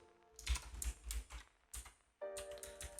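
Computer keyboard typing, a fast uneven run of key clicks in bursts with short pauses, close and fairly loud, no voice over it.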